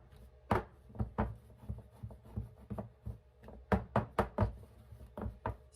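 A loaf pan of banana nut bread batter is bumped against a kitchen counter again and again, giving a string of sharp, close wooden knocks in an uneven rhythm, with no talking.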